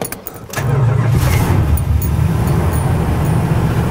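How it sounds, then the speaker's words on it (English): A 1969 Chrysler Newport with a 383 big block V8 and two-barrel carb cranks briefly and catches, then settles into a loud, steady, rumbling idle up close. "And before you can drive this car, you have to start it."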